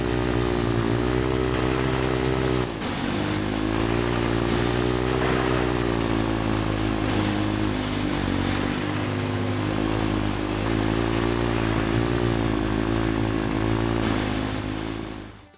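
Racing vehicle engines from the PSP game Motorstorm, a loud continuous buzzing roar of revving motors that holds steady for the whole stretch with a brief dip early on.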